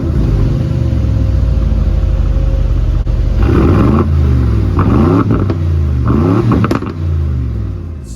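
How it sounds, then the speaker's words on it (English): A 2025 Aston Martin Vantage sits in park as its engine is revved several times, each blip rising and falling in quick succession over a steady idle, loud and close. "I'm in park, so I'll give it a little rev."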